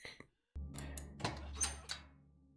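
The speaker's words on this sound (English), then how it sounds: "When you open the door, the sobbing of the woman gets louder." A door opening in the horror game Hush Little Lily: a soft click and thunk, then a low, steady rumble with a few sharp creaks and knocks, moderately close, with no talk.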